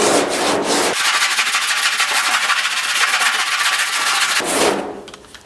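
Sandpaper rubs rapidly back and forth over body filler on a GTO restomod, a loud, close, rhythmic rasping that fills most of the clip and then fades.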